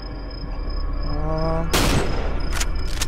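A quick burst of game gunfire cracks out, followed by another short volley, sharp and loud over a steady electronic hum.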